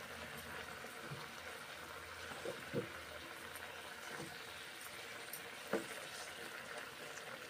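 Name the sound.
water boiling in a pot for dal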